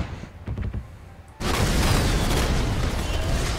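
Gangplank's Cannon Barrage ultimate in League of Legends, a few scattered thumps followed by a sudden, sustained roaring barrage of dense cannon blasts that stays loud and continuous to the end.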